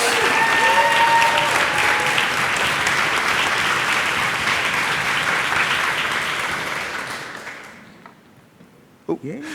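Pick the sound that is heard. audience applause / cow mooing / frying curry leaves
audience applause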